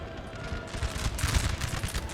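Musket volleys crackle between infantry units in the Napoleon Total War video game, a dense ragged fusillade of overlapping shots that swells toward the middle of the burst.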